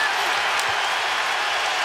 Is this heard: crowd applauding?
yes